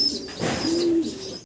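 A moulting Syrian Shaky pigeon gives one close, moderately loud, drawn-out coo with a steady hum near its end, alone and without voices.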